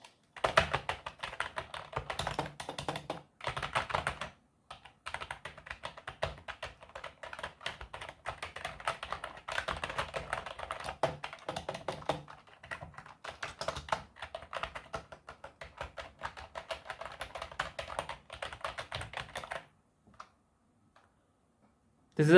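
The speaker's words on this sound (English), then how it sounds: "listen to the key press sound of this keyboard" Rapid key presses on a Redgear Blaze 7 gaming keyboard clatter steadily in close, quiet bursts with brief pauses, ending in near silence.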